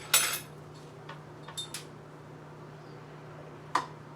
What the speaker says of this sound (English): I boiled 2 eggs, so I'll just chop them up